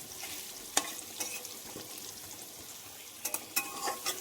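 Potatoes with turmeric and salt fry in a pan, a steady soft sizzle broken by a few sharp scrapes and clinks of stirring, close and alone with no voices.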